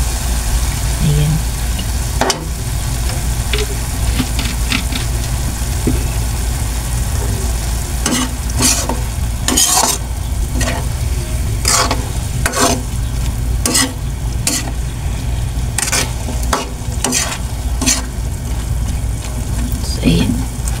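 Meat sizzles and fries in a pan with soy sauce while being stirred, a steady loud crackle with repeated scraping clicks of the utensil throughout.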